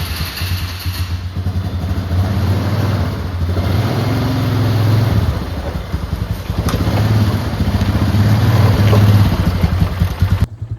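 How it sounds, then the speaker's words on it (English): A quad ATV engine drones nearby as it drives off towing a large welded magnet sweeper, its low rumble rising and falling with throttle changes over about ten seconds before cutting off. "Let's go ahead, drive this out with the quad"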